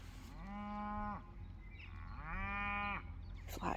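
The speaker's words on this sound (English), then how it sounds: "that's a noisy cow over there" A cow moos twice nearby, each long, loud low call rising and holding before trailing off, with quiet outdoor background.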